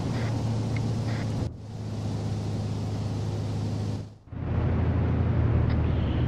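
A Pelican dropship in a video game arrives and sets down, a loud continuous engine rumble with two abrupt dips in the roar before it settles into a heavier, steady drone.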